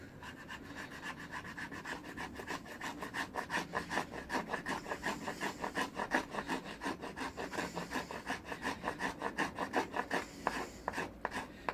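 A Mora Garberg knife scraping wood into fine shavings, a fast steady series of rasping strokes close up that grows louder after the first few seconds, with no talking.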